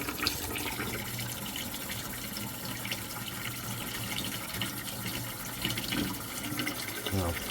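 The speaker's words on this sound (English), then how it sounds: "just let the cold water run in nice and easy at first" Cold tap water runs steadily into a pot of hard-boiled eggs, a continuous close splashing and pouring that keeps an even level throughout.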